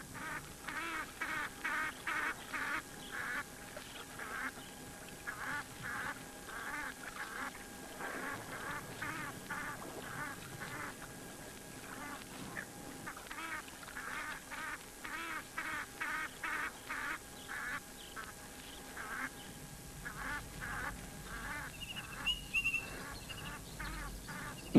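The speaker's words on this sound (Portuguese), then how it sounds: "O pântano logo se alarga e dá lugar a poços esparsos, com seus belos nadadores, os gansos egípcios." Egyptian geese at a waterhole in the African wild give repeated nasal honks in uneven bursts, moderately distant, carrying on throughout with brief pauses.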